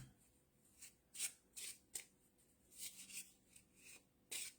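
A tarot deck is shuffled by hand in soft, close riffles and slides, a string of short papery flicks and rubs at an irregular rhythm, very quiet overall.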